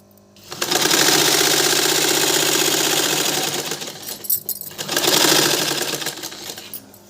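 A sewing machine stitches fabric in two close, fast, steady runs of rapid mechanical clatter separated by a brief pause, then slows and stops.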